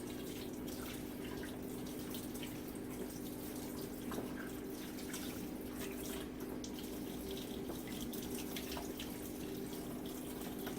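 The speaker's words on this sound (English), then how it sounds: "And I'm going to tilt to where the water runs off my arm." Tap water from a foot-pedal faucet runs steadily during a surgical hand scrub, a continuous close splashing hiss over the sink with no pauses.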